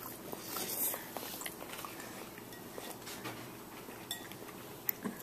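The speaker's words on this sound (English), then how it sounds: "It's really chewing it up" An animal named Sam chews food close by, with quiet crunching, clicking and smacking bites scattered irregularly over a low background.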